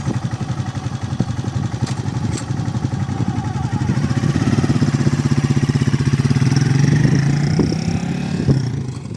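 A motorcycle converted to a bobber chugs close by, pulling away in first gear, its revs rising steadily, a rough continuous drone that grows louder midway.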